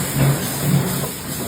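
Water splashed into a hot pan of coriander and cumin, a loud close burst of steam hiss and bubbling that quickly settles, with no voices.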